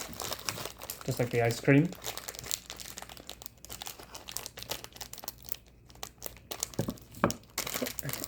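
An overseas Neapolitan-flavor Oreo cookie wrapper is torn open by hand with crisp, close crinkling and crackling bursts, while a person talks over part of it.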